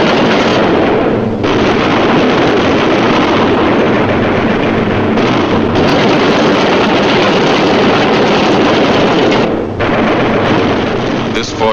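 A B-17 Flying Fortress bomber in flight with one engine on fire, losing speed and height as it drifts into flak: a loud, dense, unbroken roar that fills the whole stretch, with a few brief dips.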